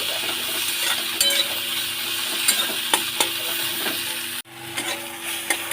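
Kharkol leaves fry in a pan in a home kitchen, a continuous sizzle broken by several sharp scrapes and clinks of a spatula against the pan, with a brief dropout near the end.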